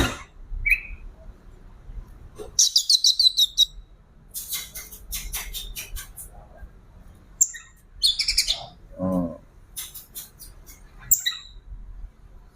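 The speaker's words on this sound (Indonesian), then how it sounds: "Dia cenderung pamer kicauan ya ketika sama kacer betina teman-temanku." An oriental magpie-robin sings in sharp, scattered bursts of chirps, whistles and squawky notes, bright and close, separated by short silences over a faint low hum.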